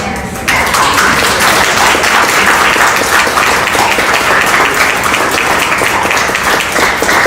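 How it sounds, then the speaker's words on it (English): A room full of people breaks into loud, dense applause for Ivana at a launch-day gathering, starting abruptly after a brief moment and continuing steadily to the end. "Can we collectively give Ivana a round of applause?"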